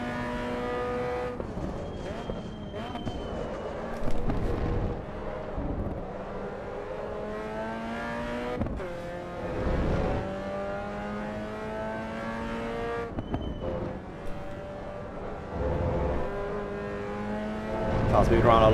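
A racing car in a sim racing game lapping the Hungary circuit, its engine revving up through the gears and dropping under braking in repeated loud sweeps, with someone talking over it.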